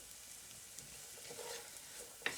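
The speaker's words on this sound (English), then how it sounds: "We're going to go ahead and put this into the 2 tablespoons of butter that we have melted here on the stove." Soft, steady sizzle of minced mushrooms cooking in melted butter in a pan on the stove, quiet and continuous with a light stir or scrape near the end, no talking.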